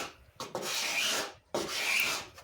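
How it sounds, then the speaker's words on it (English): Two long, steady scraping passes rasp across the faired surface of a 7-metre sharpie trailer yacht hull, taking off high points in the filler, close and loud with a short pause between strokes. "Here I'm starting the fairing process by scraping off the high points"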